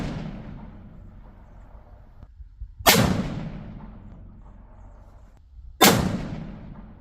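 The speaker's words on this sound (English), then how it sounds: "I'm going to shoot the bottom right target, number 2 load" Two loud, sharp rifle shots from a custom .338 Lapua, a few seconds apart, each a sudden crack followed by a rumbling decay, with low background noise between them.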